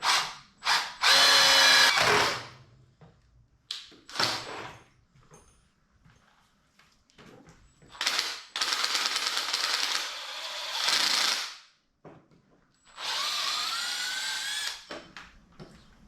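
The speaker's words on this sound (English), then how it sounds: "I gotta press on it really hard because it's really dull. So I'm just acting like a drill press and forcing it in." Dull drill bit forced hard through metal on a 1936 Ford Coupe or 1932 Ford three-window during car restoration; several close, loud grinding bursts of a few seconds each, separated by pauses with faint handling noise.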